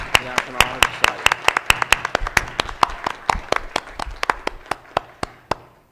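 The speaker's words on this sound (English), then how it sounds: "A round of applause, I think, from everyone for your recognition to the National Honor Society." At a school board of education meeting, a small group claps for students recognised by the National Honor Society: sharp, distinct hand claps in a steady rhythm, close by, thinning toward the end.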